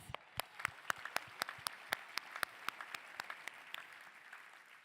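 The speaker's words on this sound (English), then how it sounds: "Let's give them one more round of applause." Claps ring out at a panel event, sharp and distinct in a steady, fairly even rhythm, sounding like only a few hands in a quiet room.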